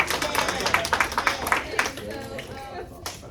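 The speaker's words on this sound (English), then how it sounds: "Give her another hand clap," A crowd claps in quick, uneven bursts that fade out, with a voice speaking over the applause.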